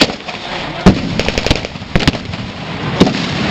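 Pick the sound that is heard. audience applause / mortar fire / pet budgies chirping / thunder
mortar fire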